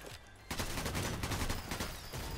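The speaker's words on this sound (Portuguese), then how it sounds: "Tomei tiro dali, ó. Não sei de onde veio." Rapid bursts of gunfire in a video game, dense fusillade-like shots firing close and loud in quick succession for a couple of seconds.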